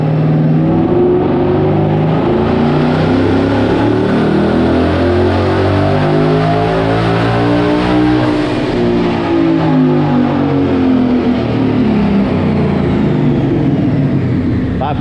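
Twin-turbo 2020 Mustang GT V8 revving hard on a dyno pull, a loud continuous engine roar rising in pitch over several seconds then easing back, with no talk over it.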